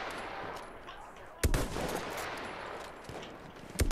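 Distant gunfire from Battlefield 1 multiplayer gameplay: a faint rumble of battle noise with two sharp shot cracks, one about midway and another at the end.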